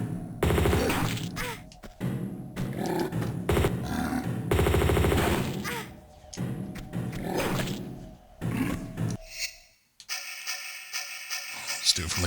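Weapon fire in Tomb Raider Remastered, a run of loud game gunshots and bursts with crashes over the first ten seconds, then a quieter tonal game passage; talk runs alongside the shots.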